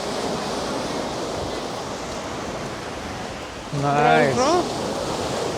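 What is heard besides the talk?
ocean waves at sunset, Koh Samui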